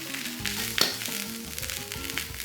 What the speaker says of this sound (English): Fry that through.